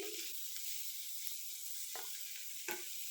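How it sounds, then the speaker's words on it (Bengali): Vegetables fry in a pan for Maggi noodles, a faint, thin sizzle with a few light spatters and stirring taps, quiet and close, no talking. "এবার এটা থেকে একটু ভাজা ভাজা করব"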